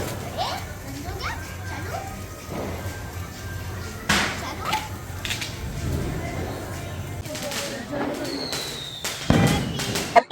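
Firecrackers bursting at Diwali celebrations in Rajnandgaon, a few sharp cracks and bangs scattered over a noisy outdoor scene, with children's voices and chatter throughout.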